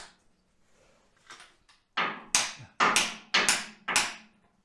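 A hammer taps a core plug into an alloy engine block on a 1971 Range Rover: a few light knocks, then five firm metallic blows in a steady rhythm, close and loud, with no talking.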